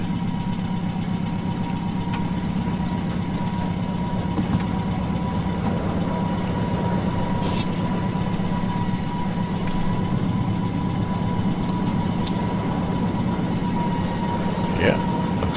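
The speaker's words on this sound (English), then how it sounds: "Yeah, looks like we got a good engine start." Steady engine drone of a Latécoère 631 flying boat starting up in Microsoft Flight Simulator 2020, a constant low hum with a mid tone holding evenly throughout, loud and unbroken with no talk over it.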